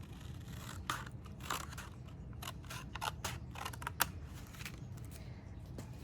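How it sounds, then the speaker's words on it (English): Scissors snip through material in a series of crisp, irregular cuts, close and clear over a low steady hum. "Then simply take your scissors and just cut that off."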